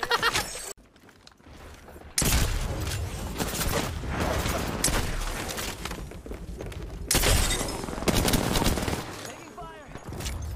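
Rapid bursts of gunfire and booming explosions from a competitive online battle royale shooter tournament, loud and nearly continuous, with players talking excitedly over the shooting.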